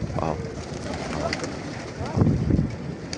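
Pigeons coo in low, throaty bursts nearby, with a voice talking over them and some background rustle.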